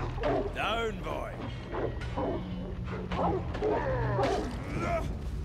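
A dog or wolf growling and snarling in the video game Banishers: Ghosts of New Eden, repeated rough, throaty bursts close by, with a voice speaking between them.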